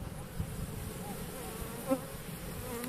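Caucasian and Carniolan honeybees buzz right at a beekeeper's mask beside the hive, a steady close drone with a few sharper passes as individual bees swoop in.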